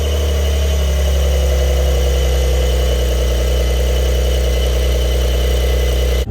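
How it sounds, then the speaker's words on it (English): A 992-generation Porsche 911 Carrera S engine drones loud and steady from inside the car as it pulls away, a deep even hum with a constant mechanical whir that holds level throughout, with no speech. "All right, guys, we are off in the Porsche 911."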